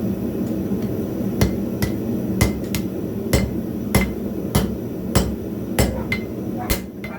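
Steel is hammered to flatten and form the tip of a skinning knife, with sharp metallic blows landing at a steady, evenly spaced rhythm, loud and close.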